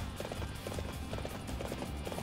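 Horse hooves clip-clop in a steady, rhythmic trot in the Dynasty Warriors Empires video game, a continuous series of close, moderately loud hoofbeats with a faint game background underneath.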